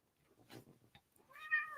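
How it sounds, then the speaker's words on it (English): A domestic cat gives a single short meow near the end, close by and clear, after a quieter stretch of soft sounds. "Oh, my cat came."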